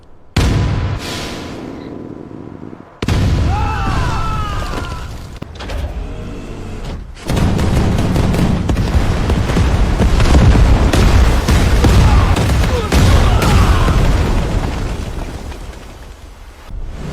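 Gunfire and explosions break out in an animated war drama as troops open fire, a dense, loud roar of booms and blasts with crackling shots layered over sustained rumble, briefly dropping back before surging again.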